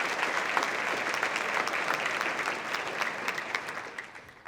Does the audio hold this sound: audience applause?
yes